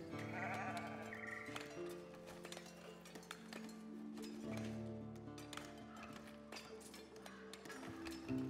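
Sheep bleating in the building game Foundation, faint animal calls over a soft layered musical background, with no talk.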